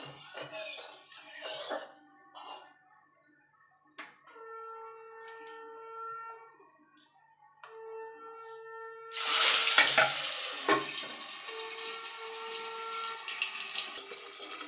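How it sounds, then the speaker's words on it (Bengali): Oil sizzles steadily as pieces of boal fish are dropped into a hot pan, with a louder burst of crackling partway through, alongside some clinks and background tones. "ছেড়ে মাছগুলো একটু কড়া কড়া করে ভেজে নেব"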